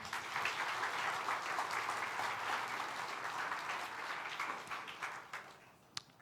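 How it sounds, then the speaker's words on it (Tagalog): Congregation applauding during a Sunday church service, a dense sustained clapping that slowly thins and fades toward the end, closing with a single sharp clap. "Palakpakan natin si Lord."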